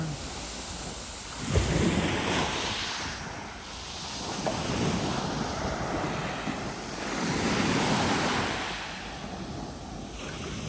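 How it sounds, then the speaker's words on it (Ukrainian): Sea waves washing ashore on Konyaaltı Beach in Antalya on a rainy morning, a continuous surf roar that swells and recedes in slow surges, with wind buffeting the microphone. "Давайте ще вам трішки морька поставлю"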